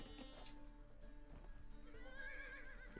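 A horse in the Age of Empires II video game whinnies loudly, with clip-clopping hooves and busy battle sounds around it. The neigh rises toward the end.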